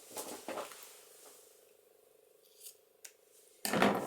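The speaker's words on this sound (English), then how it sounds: "I'm just going to use this ribbon and tie it on the edge. So I'll cut this in halves" Scissors snip through a piece of ribbon for a junk journal cover, a couple of quiet close cuts at the start and a louder crisp snip at the end in a quiet room.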